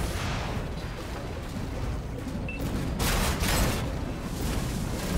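Soviet tank cannon fire in World of Tanks, a dense, continuous rumble of heavy shots and booms with a louder burst of blasts about three seconds in.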